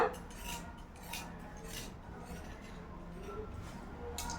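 Scissors cutting cloth for a school uniform shirt, a run of short crisp snips repeating at a steady pace, close and moderately faint, with no talking.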